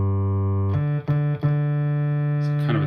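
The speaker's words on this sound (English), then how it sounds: "Oscillator 1 is going to sound like this." Moog Sub Phatty synthesizer oscillator 1 alone, a thin, steady buzzy tone with rich harmonics held for about three seconds, briefly dipping twice as it is retriggered.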